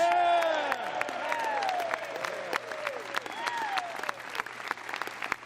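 A large crowd applauds with sustained, dense clapping that gradually thins out, and a faint voice is heard beneath it.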